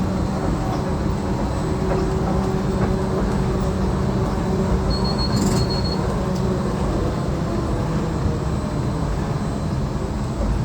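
Disneyland Monorail in Anaheim gliding from Downtown toward Tomorrowland, a steady loud rumbling drone of the train running throughout with a brief high whine partway through.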